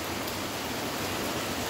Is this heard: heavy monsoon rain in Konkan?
yes